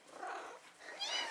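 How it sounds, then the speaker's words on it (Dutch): A mother cat with a litter of four-week-old kittens purrs hard and close, a soft continuous rumbling purr throughout, with a faint higher squeak near the end. "hier zien we mami. Die heel hard aan het snorren is."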